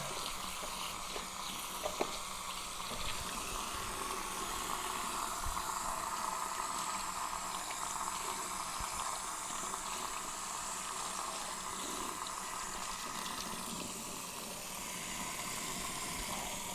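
Shower water runs steadily and splashes close by as soap is rinsed off in a bathroom, a continuous hiss with no talking.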